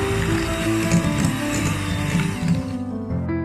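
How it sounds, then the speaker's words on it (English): An electric mixer whirs steadily as it beats butter with white and brown sugar for cookie dough, a continuous close motor drone that cuts off near the end. "Beat this with a mixer until it's well combined."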